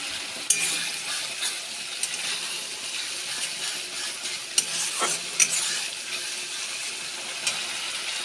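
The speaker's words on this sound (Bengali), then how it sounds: "পেঁয়াজ বাটাটা দিয়ে দিয়েছি, ভালো করে ভেজে নেব।" Onion paste fries in a pan for chicken kosha while being stirred, a steady close sizzle broken by occasional sharp scrapes and clinks of the utensil against the pan.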